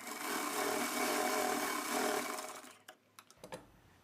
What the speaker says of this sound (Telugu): ఈ కటింగ్ దగ్గర నుంచి ఈ నాలుగు ఇంచుల వరకు స్టిచ్ చేసేయండి